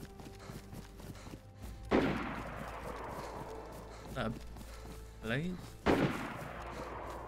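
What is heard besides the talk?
gunfire from several guns in the video game DayZ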